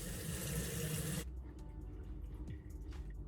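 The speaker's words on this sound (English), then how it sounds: "Gonna rinse the skin now." Tap water running into a bathroom sink while a face is rinsed: a steady, soft rushing stream that cuts off after about a second, leaving faint drips and small splashes.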